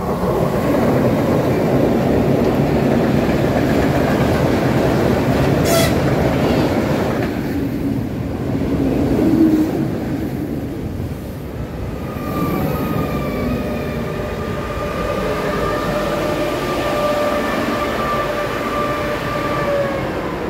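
A Vectron locomotive rumbles past in the rain hauling a long freight train, a steady loud roar with rising tonal whines and wheel hum as the cars roll by.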